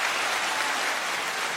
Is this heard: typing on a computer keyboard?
no